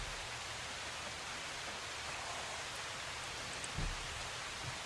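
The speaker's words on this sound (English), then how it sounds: "we do not want to be in this rain anymore" Steady rain pours down in the zombie survival video game Project Zomboid, a dense, even hiss that fills the scene without letup and with only a faint bump near the end.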